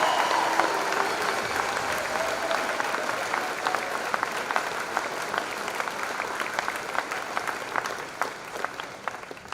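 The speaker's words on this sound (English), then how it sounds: "let's give one more round of applause for the Valders High School graduating class" Audience applause for the Valders High School graduating class of 2022 at a senior graduation ceremony, sustained dense clapping from a large crowd that slowly fades over several seconds.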